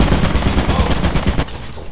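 Rapid automatic turret fire in the video game Lethal Company, a loud, dense burst of gunshots with steady rhythm for over a second before easing off.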